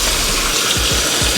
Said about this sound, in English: The faucet's on.